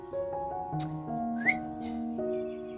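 A person whistles a short, bright melody of several sustained, clear notes that step up and down, close and fairly loud with a quiet room behind it.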